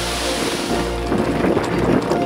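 Stream water rushing over small waterfalls formed by retaining walls beside a rural cobbled trail, a steady broadband wash that runs continuously and swells slightly in the second half.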